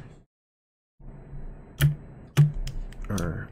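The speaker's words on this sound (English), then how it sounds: "I still have my very loud, clicky keyboard right in the foreground, ready to bring you some, I guess nowadays, you know, it's some ASMR pleasure" A loud, clicky mechanical computer keyboard is typed on at close range, a short silence giving way to sharp individual key strikes and a quick burst of clatter.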